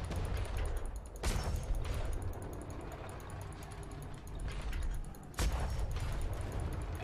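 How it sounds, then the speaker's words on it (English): Ship cannons fire in the Atlas MMO during a naval battle. Heavy booms land at intervals over a dense, continuous roar of battle and engine-like noise, two of them standing out sharply. "He's returning cannonballs. You keep firing, Brad, I'm moving."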